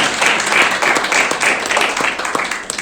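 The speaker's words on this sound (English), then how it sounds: "So just a round of applause for Candy." Applause from guests at a 2019 graduation party, a steady patter of clapping from a small group with some voices underneath.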